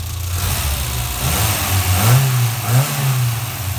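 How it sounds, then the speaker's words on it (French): A 1994 Renault Supercinq Five 1.4i engine revs up twice in short bursts over a steady idle, close by, with no talking. "on va mettre un petit coup de gaz pour que vous entendiez le moteur"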